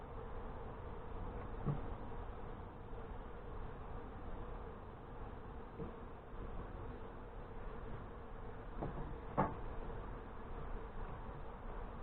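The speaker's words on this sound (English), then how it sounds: "Lots of bees on the frame." Honey bees cover a frame from a newly installed nuc hive in northern Michigan, buzzing in a steady close drone broken by a couple of faint clicks.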